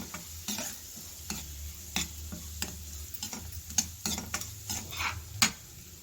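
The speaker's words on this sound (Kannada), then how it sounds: "ಸ್ಟವ್ ಫ್ಲೇಮನ್ನು ಲೋವಲ್ಲಿ ಇಟ್ಕೊಂಡು ರವೆನ ಚೆನ್ನಾಗಿ ಹುರ್ಕೊಳ್ಳಿ" Semolina roasts in ghee in a pan while being stirred, a low steady sizzle broken by repeated clicking scrapes of the spoon against the pan, close up with no voices.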